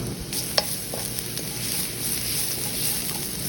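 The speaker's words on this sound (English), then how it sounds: "we're going to be sauteing our garlic, onions, ginger and pimentos" Garlic, onions, ginger and pimentos sauteing in hot avocado oil in a wok, a steady close sizzle with occasional stirring scrapes and small pops, no talking.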